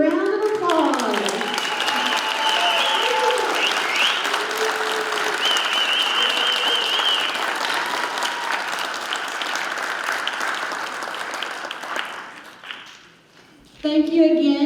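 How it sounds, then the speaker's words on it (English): Loud, sustained applause from an elementary school audience after a rock-and-roll themed school show, with bright cheers over the clapping that fades briefly near the end before a voice returns. "Let's give them one more big round of applause"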